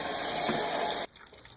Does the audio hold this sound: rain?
no